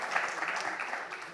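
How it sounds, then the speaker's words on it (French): Audience applause at a water conservation conference, moderate steady clapping from a seated crowd, fairly distant and even throughout. "on peut applaudir cette intervention"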